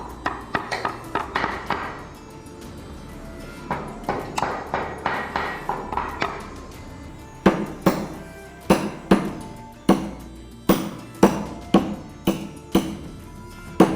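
A chisel struck with a mallet gouges out wood for a bone inlay furniture panel, with loud close rhythmic knocks, rapid and steady at first and then slower, sharper blows at regular intervals.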